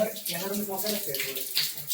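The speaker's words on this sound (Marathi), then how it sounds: "पाणी खाली नळात आलेलं आहे" Water from a solar water heater runs out of a bathroom tap in a continuous splashing flow while a person talks over it.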